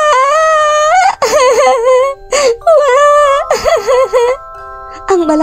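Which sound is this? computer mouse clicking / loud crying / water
loud crying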